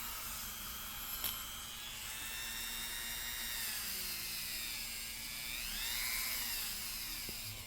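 A Dremel rotary tool run by a foot pedal whines steadily while cleaning an antique router plane, its high-pitched spinning tone shifting slightly in speed and load throughout, close and continuous with no talking.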